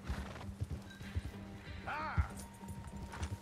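A horse in Red Dead Redemption 2 gallops with a quick, steady clip-clop of hooves and gives one clear whinny midway. A rumbling game backdrop sits underneath.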